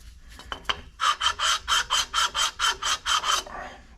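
A metal surface on a 1968 Mercury Colony Park is rubbed by hand in about ten even, rhythmic rasping strokes, close and fairly loud, after a few scattered scuffs.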